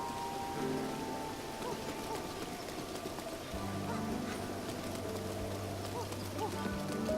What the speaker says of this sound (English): It's raining but not raining?